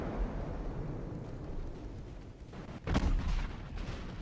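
Booming 12-inch naval guns fire in a 1902-era battleship engagement in Ultimate Admiral: Dreadnoughts, a low rumbling background with one sharp, heavy blast near the end.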